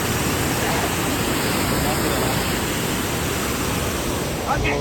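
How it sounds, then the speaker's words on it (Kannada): A steady, loud roar of water cascading down falls near Kodaikanal fills the whole stretch as an unbroken broadband wash, with no clear voices. "ಇವೆಲ್ಲ ನೀರು ಹೆಂಗೆ ಹರಿತೈತೆ ನೋಡ್ರಿ."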